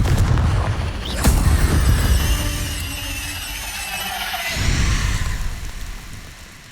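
A loud fiery blast booms in the Hogwarts Legacy video game, with a sharp crack at the start, a rushing roar that fades, then a second low burst near the end.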